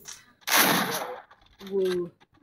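Gunfire in the mobile shooter game Free Fire: one loud, dense burst of shots lasting under a second, followed by a shorter, fainter burst with a tonal edge.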